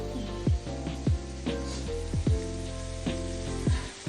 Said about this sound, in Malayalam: മത്തി വറക്കുകയാണ്